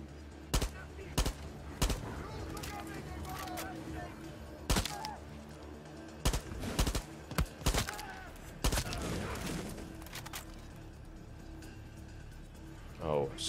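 Gunshots ring out in a Far Cry 6 DLC firefight set in Pagan Min's world, coming as sharp single cracks and short bursts spread across the clip. A player speaks between the shots.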